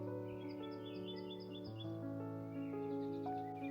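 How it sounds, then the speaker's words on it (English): Birds chirping outdoors in the yard of a family home, layered whistling calls and quick tweets over a sustained tonal background, fairly quiet and continuous, with no voices. "I absolutely love the sound of the birds."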